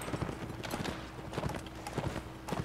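Horse hooves clip-clop in a steady, moderately loud rhythm during a Mount & Blade Warband battle set in the American Civil War, with recurring broadband hoof strikes over low background rumble.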